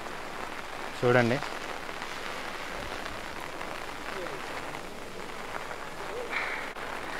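Heavy rain pours at Golkonda fort in Hyderabad during the Bonalu festival, a steady close hiss of drops beating on surfaces, with a person talking briefly over it.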